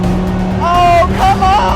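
A Dodge Viper and a Dodge Durango Hellcat race on a wet surface, their engines roaring loud and close with rising whining pitch sweeps, under an excited shouting voice.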